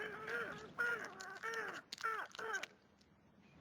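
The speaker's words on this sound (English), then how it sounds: "The crows were squawking" Crows squawking and cawing in a rapid series of harsh, close calls, several overlapping bursts that stop abruptly, leaving a quiet tail.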